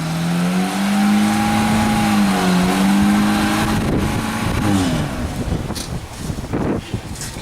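A 1990 FSO Polonez engine starting and running, a steady close idle hum that rises and falls with revs under wind noise.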